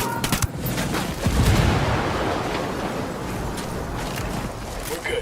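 A frag grenade going off in Ghost Recon Wildlands, a broad loud blast near the start that rolls into a sustained roar of game combat noise, with scattered gunfire-like crackles throughout.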